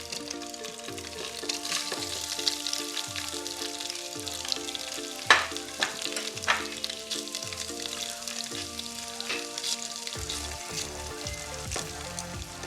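Tofu fries in a hot pan with a steady, close crackling sizzle and scattered sputtering pops that continue throughout, with no talking.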